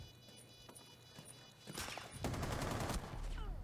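Gunshots in Rainbow Six Siege, with sparse cracks early and then a loud, dense burst of rapid gunfire and impacts that keeps going to the end, with little talk.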